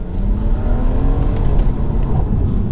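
A stage 1 tuned 2018 BMW M140i accelerates hard, its engine roaring loud and steady throughout while the tyres spin briefly, heard from inside the car.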